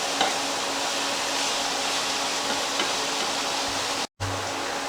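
Mushrooms, onions and garlic frying in a pan over medium to medium-low heat give a steady, even sizzle throughout, briefly cut by a short moment of silence near the end.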